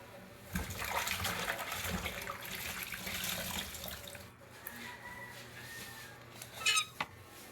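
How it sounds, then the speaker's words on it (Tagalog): Running tap water splashes into a container, a steady pour with a few clinks and knocks near the end. "Sahod ako ng tubig."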